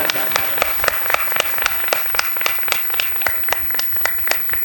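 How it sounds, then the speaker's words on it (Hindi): A crowd claps loudly in a quick, even rhythm, with some voices mixed in underneath, at an honouring ceremony during a religious katha gathering. "जोरदार तालियां।"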